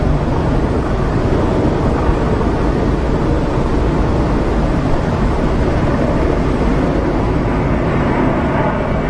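A large Globemaster military transport aircraft passes overhead during the RAF100 flypast over London, its loud continuous engine roar filling the air with broadband rumble, heard outdoors with no voices.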